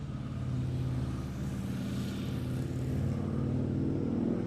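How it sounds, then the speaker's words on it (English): A motorcycle rumbles past on a town street, a steady low engine drone that swells slightly and holds for several seconds at moderate distance, with no voices. "The loudest thing on the street was a motorcycle going by"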